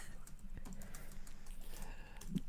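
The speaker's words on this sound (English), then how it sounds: "you can hear me typing" Faint computer keyboard typing, soft scattered key clicks at low level against a steady background hum, with no voices.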